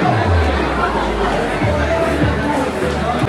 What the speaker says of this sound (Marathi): फुल गर्दी आहे ना